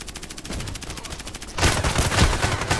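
An OTs-33 Pernach pistol fires in the shooter game Contract Wars. A rapid string of quieter shots gives way to a louder, denser burst of gunfire.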